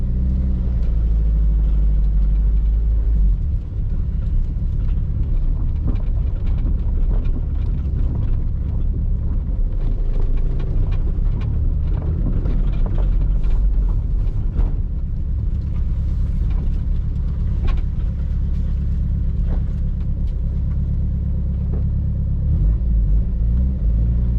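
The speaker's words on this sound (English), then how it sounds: "Windows are down because it feels really good out today. Might get some wind noise" A car cruises with its windows down, giving a continuous low rumble of engine and road with buffeting wind noise throughout, steady and fairly loud, with no talking.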